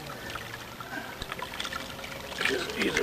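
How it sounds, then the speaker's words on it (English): Water from a spring trickles and pours into a water bag, a soft uneven splashing that grows louder toward the end, with people talking over it. "Fill the water bag."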